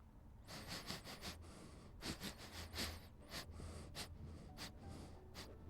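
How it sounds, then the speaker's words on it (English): A stream-redeem sniff sound effect plays as a series of short, quiet, breathy sniffs and snorts in irregular bursts, with brief pauses between them. "Thank you for the sniff and redeem."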